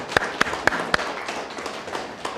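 A small audience at a Guri city council press briefing claps to welcome a council member. Four sharp, evenly spaced claps ring out up front, followed by a few softer, scattered claps that trail off.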